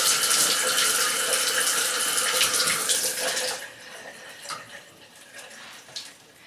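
Water runs steadily from a tap for about three and a half seconds while a leg is wetted before shaving, then drops to quieter splashing and drips.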